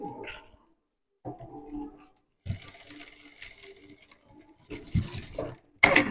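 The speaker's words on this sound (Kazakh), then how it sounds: "Замок шығып кетпес үшін тіктай тігіп жіберем." A sewing machine running short stitches along the edge of a zipper, in several brief whirring bursts separated by pauses and ending with a few clicks and handling noises.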